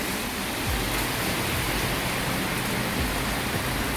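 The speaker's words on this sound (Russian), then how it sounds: "Да, дождик крупненький припустил." Heavy rain with big drops pouring down outdoors on a hillside path, a dense, steady hiss of drops hitting puddles and surfaces, close and unbroken, with no talking.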